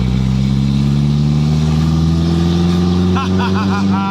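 A loud car engine revs and drones steadily with a rising tone, close by, and a voice is briefly heard over it near the end.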